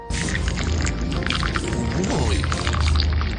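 Hot water pours steadily over raw shrimp in a container, a loud close splashing gush with a rising gurgle as the level climbs, and a brief exclamation from a voice.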